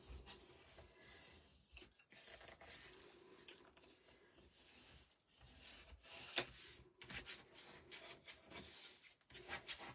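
A bone folder burnishes paper in a handmade album, making faint, close rubbing and rasping strokes in short repeated passes with small pauses between them.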